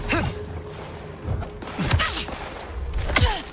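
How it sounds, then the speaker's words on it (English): Gunfire in the video game Bloodlines 2: several sharp, thumping shots at irregular moments, moderately loud, mixed with game ambience and some effort-like vocal sounds. "Who's shooting at us?"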